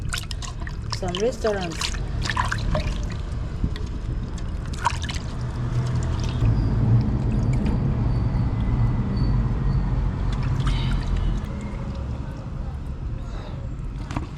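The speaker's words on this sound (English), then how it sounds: "That's why it's always good to cook this fish at home, so you can wash it properly." Tap water trickles and splashes steadily while fish is washed by hand in a home kitchen, running continuously under a woman's close speech throughout.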